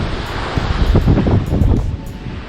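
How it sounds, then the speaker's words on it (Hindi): Strong gusting wind on a high mountain road from Pokhara to Jomsom buffets the microphone in a loud, continuous roar with rustling bursts, no speech heard. "हवा चल रही बहुत तेज़"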